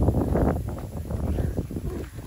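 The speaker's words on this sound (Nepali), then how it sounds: "मजाले हावा चलिरहेछ है" Wind sweeps across an open hill as a brief rushing gust, buffeting the microphone with uneven low rumbles that swell and ease.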